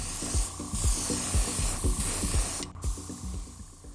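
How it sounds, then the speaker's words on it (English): Tamiya XF2 white paint sprayed onto a model Toyota Celica Supra car body in steady aerosol hisses, with rhythmic low clicking or tapping underneath and a brief break near the end. "I will give the entire thing a coat of white paint. I'm using Tamiya XF2"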